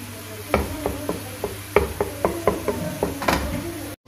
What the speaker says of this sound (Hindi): ये फिलहाल हमने सिर्फ इसे ना हिलाते रहना है